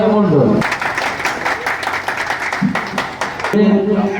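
Applause and clapping from a crowd at a Rakhi festival gathering held by a panchayat, steady for several seconds under a voice calling out over a loudspeaker.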